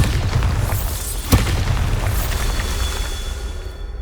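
Bombarda spell exploding in Hogwarts Legacy, a single sharp blast with a booming low rumble over continuous game ambience and effects.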